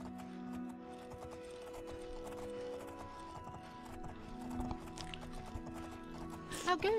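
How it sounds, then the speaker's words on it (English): A horse gallops in the video game The Elder Scrolls IV: Oblivion, its rapid rhythmic hoofbeats steady and clear, ending with a neigh or whinny at the close. "See, my horse is fast as well."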